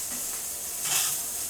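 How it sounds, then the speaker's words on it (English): Skin-on chicken breast sizzles in a hot pan, a bright steady crackling hiss that swells briefly near the middle, close and loud with no talking. "get that skin on there and make sure it's sizzling. You want to hear that noise."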